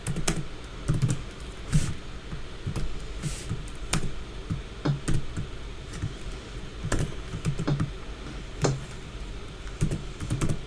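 Fingers type code on a computer keyboard, a close run of crisp, irregular key clicks with short bursts and pauses and a few heavier thumps, with no talking.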